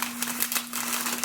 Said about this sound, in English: I should have pulled that out because these plastic bags are so obnoxiously noisy.